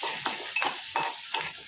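Onions frying in a pan with turmeric for a Telugu amaranth-tomato curry, a steady sizzle broken by three or four brief scraping stirs of a spoon against the pan, close and alone.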